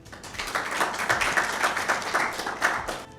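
Audience applause greets a poet at a Mother's Day mushaira, a dense burst of many hands clapping close and loud, steady for a few seconds before tapering off.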